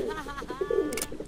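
Cooing pigeons or doves in the mobile life-simulation game The Sims FreePlay, a few soft repeated coos close by, with faint game ambience and a brief brighter chirp near the end.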